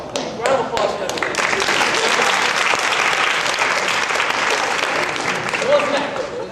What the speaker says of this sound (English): Round of applause for everything.